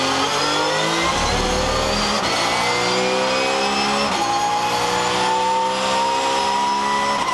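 A race car on the Le Mans circuit accelerates flat out through the gears after the Arnage corner, its engine note rising in pitch between loud upshifts, close and sustained, with no voices.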